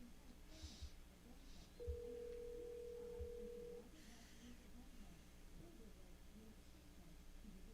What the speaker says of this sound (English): I hear a ringing noise.